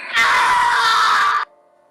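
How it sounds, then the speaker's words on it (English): A single loud, sustained scream from an animated horror story, lasting over a second before cutting off abruptly into near silence. "I wake up to the sounds of screaming"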